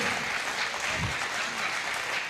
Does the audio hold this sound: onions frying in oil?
no